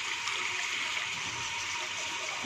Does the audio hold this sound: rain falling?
no